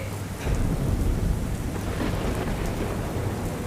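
Heavy rain pours steadily in Ahmedabad, flooding the roads, with a deep rumble of thunder underneath, a dense, loud roar throughout.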